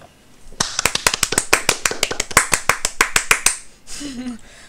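Hand clapping in a Polish Minecraft SkyBlock survival session: a fast, steady burst of about twenty crisp, close claps, followed by a short bit of voice at the end.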